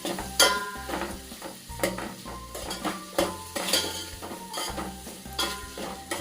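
Boiled potatoes being stirred into vegetables frying in a pan, with a soft sizzle under rhythmic scraping and clinking of a spoon against the pan, close up, and no voices.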